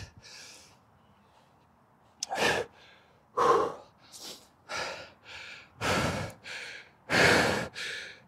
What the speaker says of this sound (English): excuse me for my loud breathing